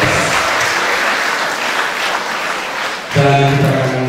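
Audience applause at an international cyber campus seminar and workshop in North Sumatra, a dense steady wash of many hands clapping, then a loud voice over a PA system cuts in near the end.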